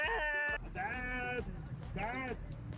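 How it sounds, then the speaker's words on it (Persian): Sheep bleating in a short online clip, three wavering bleats in a row, close and loud, with a voice speaking alongside. "این الان گوسفنده."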